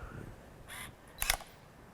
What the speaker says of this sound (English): the camera automatically focused and determined that I needed more light, so it popped open the flash